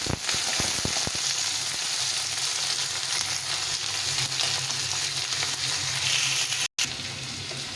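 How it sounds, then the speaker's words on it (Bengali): Chopped potatoes frying in hot oil, a loud steady sizzle and crackle close up, with a few stirring knocks at the start and a brief dropout near the end. "আলুটা ভালো করে ভেজে নেব, একদম লাল লাল করে আলুটাকে ভেজে নিতে হবে।"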